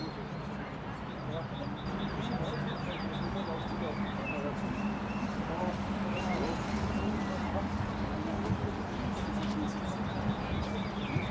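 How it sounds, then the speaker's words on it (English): Birds chirping along the Donaukanal canal in Vienna on the first day of spring, small high twittering calls scattered over a steady hum of city and water noise, with people talking nearby. "the birds are back"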